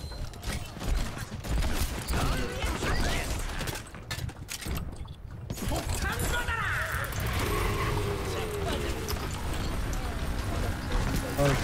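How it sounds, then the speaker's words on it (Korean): Rapid footsteps of a player in the Overwatch video game patter steadily through a dense, busy mix of in-game sounds, close and fairly prominent. "발소리 들리는데?"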